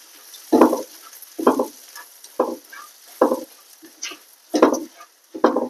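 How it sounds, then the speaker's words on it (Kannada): Curry leaves and spices frying for garlic rice, with a near, rhythmic scraping and stirring in the pan, about seven distinct strokes over a soft sizzle and no talking. "ಆಮೇಲೆ ಕರಿಬೇವು, ಆಮೇಲೆ ಇದನ್ನ ಹುರಿಬೇಕು"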